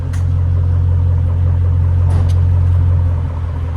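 A straight-piped luxury V8 car idles with a steady, deep, loud rumble close by, holding an even low drone for about four seconds.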